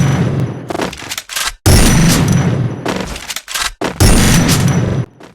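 Gunfire from an M10 weapon in a video game comes in loud, rapid bursts of overlapping shots and booms, broken by short silent gaps.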